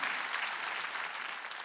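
Steady, dense applause fills a church during an Easter Sunday service, a congregation clapping continuously at moderate loudness with no voices standing out above it.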